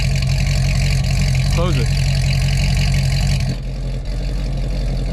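A Chevrolet C6 Corvette Grand Sport fitted with 2-inch Speed Engineering longtube headers idles with a steady, loud low rumble, the tone dropping quieter near the end as the exhaust is closed; a voice speaks briefly over it.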